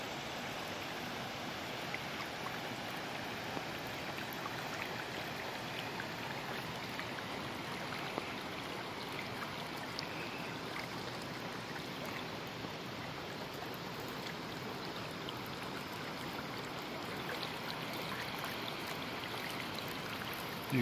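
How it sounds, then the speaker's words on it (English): Clearwater Falls in Oregon roars as a constant, broad wash of falling water, loud and close, unbroken for the whole stretch without any voices. "the falls are just way too noisy"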